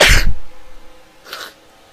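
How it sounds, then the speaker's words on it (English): A single sharp, loud sneeze bursts out at close range, followed by a faint breathy aftersound and quiet room noise. "I sneezed."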